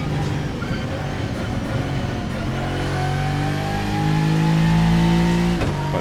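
An Adonis V8 GT3 race car in Assetto Corsa drones steadily, its engine pitch dropping, then climbing through a long rising pull as it accelerates, loud and continuous, with a brief gearshift blip near the end.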